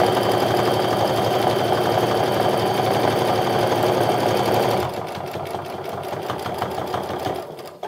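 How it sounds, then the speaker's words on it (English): Home sewing machine running a steady line of topstitching a quarter inch from the folded edge of a fabric Diva Frame wallet, a loud continuous motor whir that stops near the end, leaving a few lighter mechanical clicks. "Now I'm gonna stitch 1/4-inch away from that folded edge"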